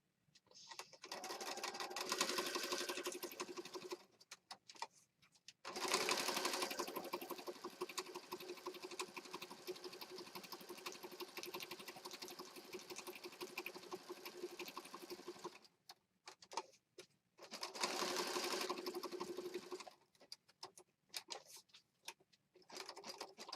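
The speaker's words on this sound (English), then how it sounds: "And now I'm going to stitch around this piece." A sewing machine stitches around a small paper piece for a junk journal in several bursts of steady whirring, separated by short quiet pauses, fairly close and moderately loud, with no speech.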